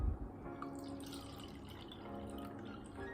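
Water poured into an electric air humidifier's tank, a soft trickle and gurgle of filling liquid, quiet and close, with a small bump at the start.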